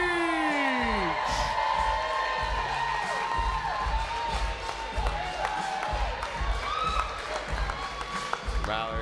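Arena crowd at a women's wrestling event cheers and whoops for wrestler Valerie Beach. The noise is loud and sustained, mixed with an announcer's voice and other talk throughout, with a sharp accent near the end.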